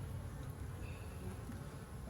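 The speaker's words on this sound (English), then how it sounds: "Bees aren't exactly happy." Honeybees hum from an opened hive in a steady, dense drone with a low buzzing body, close and continuous, with no voices over it.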